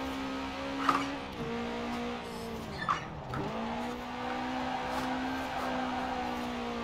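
A VW Karmann Ghia's rear-mounted engine drones steadily in Forza Horizon 4, pitch dipping and recovering as it oversteers through sweeping curves, brief tire squeals breaking through.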